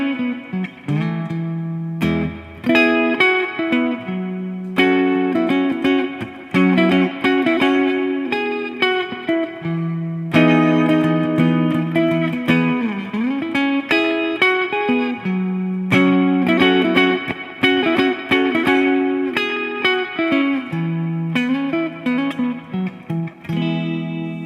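Electric guitar with P90 pickups played through a Magnifica reverb pedal on its bright, short-dwell setting, with chords and melodic lines ringing out continuously, loud and warm with a reverberant tail.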